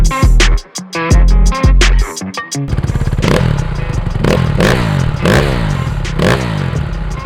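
A Honda dirt bike with twin exhausts revs sharply in a few close, loud blips with brief gaps, then settles into a sustained, throbbing engine note as it pulls away.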